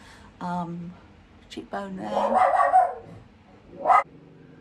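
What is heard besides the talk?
dog barking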